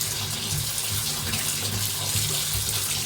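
Tap water gushing steadily into a tub being filled to wash a cat, a loud, close, continuous rushing pour with no talk.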